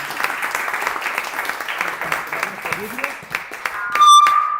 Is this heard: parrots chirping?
no